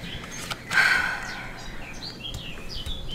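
Small birds chirping outdoors, scattered short high tweets and calls at moderate distance over a steady background hiss, no talk.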